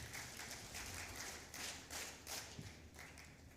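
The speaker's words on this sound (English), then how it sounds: "Please welcome him with a huge round of applause." Faint, distant audience applause at a sustainable polymers conference welcoming a speaker, a steady patter of clapping without talk.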